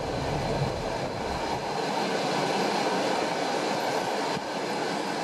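A passenger train runs steadily through Russian taiga forest at sunset, a constant rolling rumble with faint rail clatter, heard from inside or close by at moderate, even loudness for several seconds.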